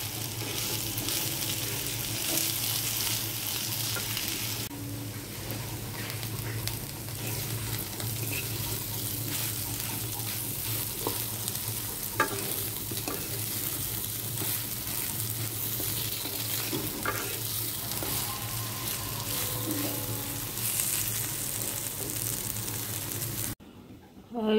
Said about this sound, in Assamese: এতিয়া পটল ভাজি হৈ গ'ল, এতিয়া বেঙেনা ভাজি আছোঁ